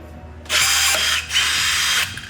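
A rivet tool sets a split rivet into a 3/16 hole on a composite side rocker of a 2020 C8 Corvette, two loud buzzing mechanical bursts close up, each lasting under a second.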